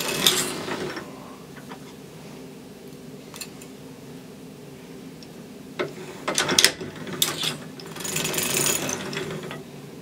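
Sock knitting machine mechanism giving off intermittent ratcheting clicks and small mechanical clatters at close range, with quiet gaps between bursts and a busier run of clicks near the end.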